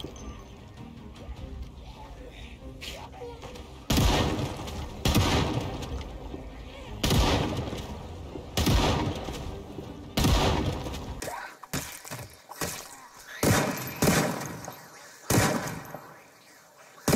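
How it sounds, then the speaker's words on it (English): A shotgun fires at zombies in the video game Project Zomboid, loud, sharp blasts spaced a couple of seconds apart over a low background murmur, with a short quieter stretch between shots. "It's time to bust out the great equalizer, the shotgun"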